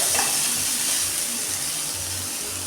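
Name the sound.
sautéing in oil while stirring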